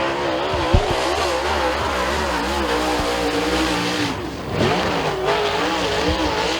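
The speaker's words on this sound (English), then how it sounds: "Levi Yetter absolutely getting it for turns 1 and 2." A super late model race car runs a qualifying lap at Thunder Mountain Speedway. Its engine roars loud and continuous, with the pitch wavering through the turns, a brief lift and then renewed acceleration.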